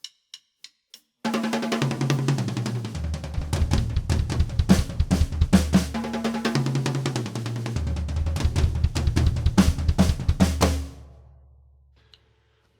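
A drummer tribute drum kit lick at 183 beats per minute, with rapid tom and bass drum rolls and crashing cymbals. The hits are loud and close, run fast and continuous for about ten seconds, then ring out.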